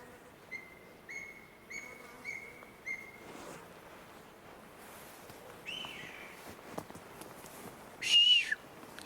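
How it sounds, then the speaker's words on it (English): A series of short, faint high whistle toots repeats several times to call an animal, then a louder, longer whistle sounds near the end, over quiet outdoor background with no talking. "I got a whistle. He's responding to it."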